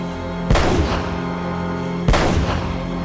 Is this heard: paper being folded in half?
no